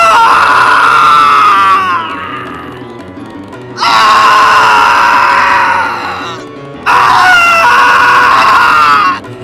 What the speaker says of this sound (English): So here is the Scout screaming.mp3 for y'all to listen and hear.